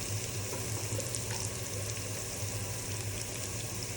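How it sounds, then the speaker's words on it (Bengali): Bottle gourd sautés in a pan, a soft, steady frying sizzle with a low hum beneath, continuous and fairly faint, no talk. "এটাকে একটু একটু কষায় নিলাম।"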